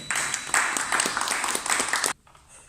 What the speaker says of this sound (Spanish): Un aplauso para Héctor Naupari.